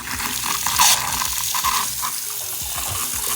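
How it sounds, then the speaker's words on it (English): Hot water runs steadily from a newly installed faucet in a renovated kids' bathroom, a close, hissing splash into the sink with small clatters throughout. "I can turn this hot water on."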